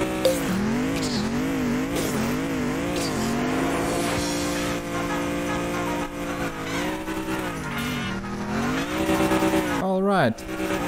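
A race car in the Bloody Rally Show video game drives around a track, its engine revving up and down in wavering pitch with tire squeals, while someone talks over it.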